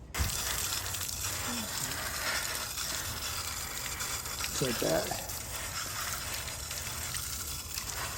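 Water and collected debris pour out of the filter of an AIPER cordless robotic pool cleaner in a steady splashing stream with a brief rattle midway, while someone speaks briefly over it.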